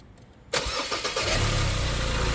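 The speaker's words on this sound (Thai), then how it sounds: "สตาร์ทเครื่องยนต์ติดขึ้นมาแล้วนะ" A Ford Ranger pickup's engine cranks briefly, catches, and settles into a loud, steady idle close by.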